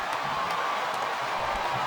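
An arena crowd from the WWE SmackDown vs Raw 2007 video game roars in a steady wash of cheering and noise, with faint claps and a commentator's voice running underneath.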